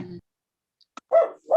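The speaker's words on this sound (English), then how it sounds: "Sorry about my dog." A dog barking in the background of an online meeting: a brief faint sound, then two short, fairly loud barks spaced under half a second apart near the end.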